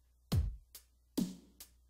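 A basic programmed dubstep drum pattern built in Ableton Live, with a low thumping hit, a soft tick, a second hit and another tick. The hits are quiet and sparse and have a short decay.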